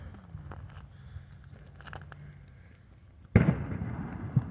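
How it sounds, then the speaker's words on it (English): A single firework bursts with a sharp, loud bang near the end, followed by crackling decay, after a stretch of low outdoor rumble during a Fourth of July evening. "That was a firework."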